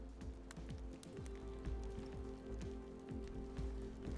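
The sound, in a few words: rain falling in the video game DayZ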